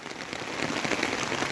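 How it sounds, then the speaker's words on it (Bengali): Rain falls steadily in Lumding on a summer morning, a soft dense patter of drops on surfaces, even and continuous at moderate distance with no voices. "তো বৃষ্টিটা দিছে আমার লামডিংয়ে।"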